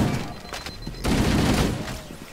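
Rapid gunfire in Halo: Combat Evolved Anniversary rattles in dense bursts, thinner at first and then swelling into a heavier sustained volley, with game sounds mixed in.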